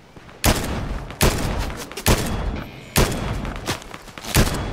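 Video game gunfire aimed at the player: five sharp, loud shots spaced roughly a second apart, each leaving a crackling, rumbling tail before the next.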